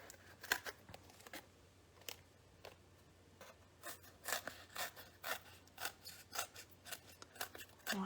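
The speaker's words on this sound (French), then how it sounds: "Je vais venir directement découper mon poinçon dans la mousse." Scissors snip through a thin 2–3 mm foam sheet to fit a paper punch at a scrapbooking and card-making table, giving a close series of crisp, uneven cuts and rasping strokes with short pauses between them.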